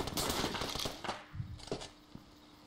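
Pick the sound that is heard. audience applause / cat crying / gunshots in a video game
gunshots in a video game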